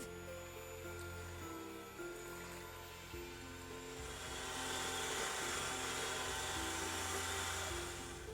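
An electric mixer beats eggnog bread batter with butter and vanilla in a steady, moderately quiet motor whine that rises and brightens partway through, with no speech.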